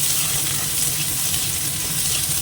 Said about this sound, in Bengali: পেঁয়াজটা ভেজে নেবো একটু নরম হওয়ার জন্য